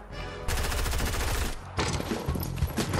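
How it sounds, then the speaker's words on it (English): Gunfire in the Fortnite video game crackles in loud rapid bursts, dense automatic volleys with a short pause between, sharp and close. "They're shooting me."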